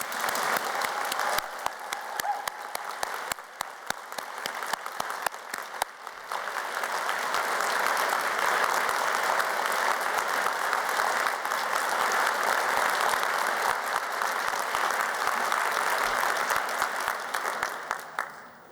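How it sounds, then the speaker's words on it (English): A large audience applauds graduates at a university degree ceremony in Glasgow, a dense, sustained wash of clapping that builds and holds steady for nearly twenty seconds with no talking over it. "let's start today's ceremony by giving all of our amazing graduates a huge round of applause"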